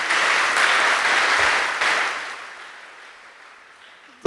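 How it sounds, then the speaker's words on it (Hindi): An audience bursts into sustained applause to honor long-serving volunteer cooks at a spiritual gathering. The clapping is dense and steady before gradually fading over about four seconds, and a voice cuts in right at the end. "उनके लिए ताली तो बजाओ।"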